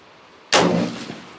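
A single sharp gunshot cracks nearby during live firing at a sports club shooting range, followed by a short echoing decay.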